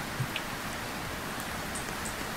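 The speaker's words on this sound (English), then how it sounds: "We can seek shelter here because the rain's killing us" Steady rain pours down inside a Roblox camping game, a dense, even hiss that holds at a constant level with no voices over it.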